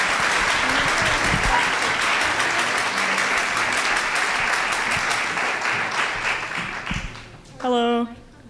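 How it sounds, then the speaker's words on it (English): An audience at a PechaKucha presentation night claps loudly and continuously for about seven seconds, the applause tapering off before a brief voice comes in at the end. "please make 3 times the noise for our final presenters, Lacey, Daniel, and Fer."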